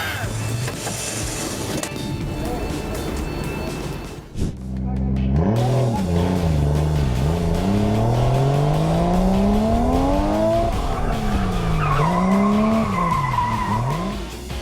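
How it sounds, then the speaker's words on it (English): A car drifts right in front of a police patrol car. Tires screech in long wavering squeals over a revving engine, loud and close, with a brief pause before the skid builds again. A voice is heard underneath. "Drifting right in front of a patrol car"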